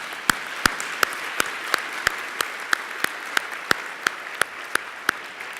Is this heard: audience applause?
yes